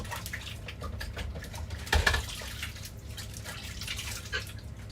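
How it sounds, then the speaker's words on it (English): Tap water runs at a kitchen sink as hands are washed after handling raw burger meat, a steady close trickle with dripping and a brief louder splash partway through. "just washing my hands"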